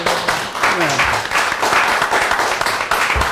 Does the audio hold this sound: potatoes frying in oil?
no